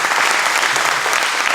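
A congregation claps during a church service, producing dense, steady applause that fills the space evenly without breaks or voices on top.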